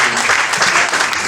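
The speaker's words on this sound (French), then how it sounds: "Acclamons très fort le Seigneur" A church congregation bursts into loud, sustained applause, dense and steady clapping with cheering mixed in, filling the whole brief moment.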